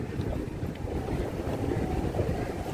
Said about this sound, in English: Ah, it's windy, it's cold.